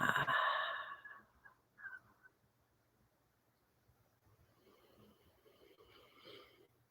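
A single audible exhale during a guided meditation breathing round, a soft, breathy rush near the microphone at the start that fades into a quiet room with faint rustling.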